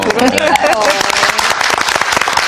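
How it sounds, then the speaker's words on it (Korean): Dense, loud audience applause from a studio crowd on a Korean talk program about parenting, a steady wash of many hands clapping alone for a couple of seconds. "정말 박수 좀 많이 쳐주세요"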